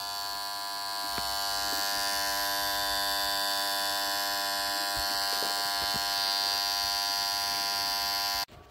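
A faulty, dirty contactor in a deep-well submersible pump control panel buzzes steadily with a hard electrical hum, loud and continuous for about eight seconds before cutting off abruptly near the end.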